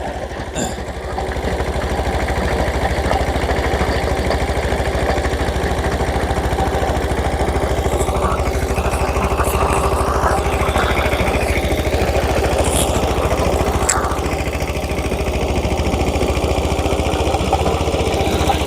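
Small tractor running a 5-foot rotavator, a steady close engine drone with a low throbbing rumble and rattling mechanical clatter, unchanging throughout and with no voices.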